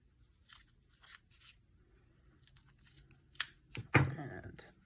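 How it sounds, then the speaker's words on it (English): Scissors snip off excess material at the corners of a sewing-pattern junk journal cover, a few quiet crisp cuts followed by a louder crunching snip near the end. "I'm just going to cut off the excess."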